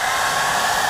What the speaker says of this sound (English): The hairdryer on it.